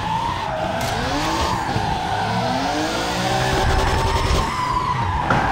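Car drifting at Furidashi, heard from onboard, with tires squealing and skidding in long wavering screeches over a loud, continuous engine roar, no voices.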